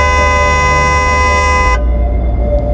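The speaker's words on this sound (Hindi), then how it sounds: "उसने पागलों की तरह हॉर्न बजाना शुरू कर दिया।" A loud, close car horn blares continuously for nearly two seconds, then cuts off and leaves a low engine rumble.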